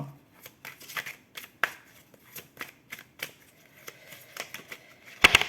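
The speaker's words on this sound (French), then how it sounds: "il faut les cartes à côté, donc j'ajoute" Tarot cards shuffled and drawn by hand in a love reading: close, crisp riffling and snapping of cards in irregular bursts, ending in a sharper flurry.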